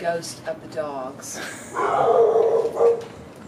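Dogs bark and yip in a short burst of sound effects for a production called Theodosia. A voice with rising, wavering tones comes first, then louder barking bursts in the second half.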